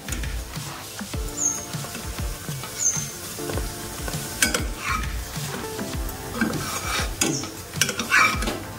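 Potato kulcha frying slowly on a pan over low-to-medium heat, with a soft sizzle and scattered scraping and stirring taps from a utensil against the pan, fairly quiet and with no talking.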